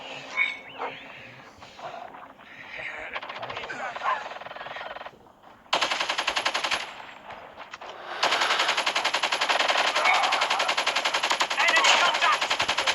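RPD machine gun firing in Call of Duty Mobile, long rapid bursts of gunfire separated by short pauses, loud and harsh, with game voices and effects mixed in.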